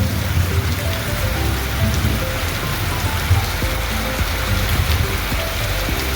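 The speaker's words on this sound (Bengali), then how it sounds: "কি জোরে ঝড় বৃষ্টি শুরু হয়ে গেছে" Dense, heavy rain drums continuously on surfaces, a thick steady wash with occasional faint rumbles underneath.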